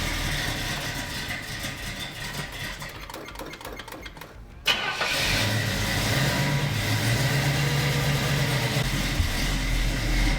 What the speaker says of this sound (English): Believe it or not, that was a quick start for it.